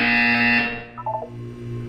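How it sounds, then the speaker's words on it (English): A Portal 2 video game buzzer gives a loud, steady electronic tone that holds for about half a second and then fades into a low hum with a few quieter blips. "When you hear the buzzer, look down at the floor."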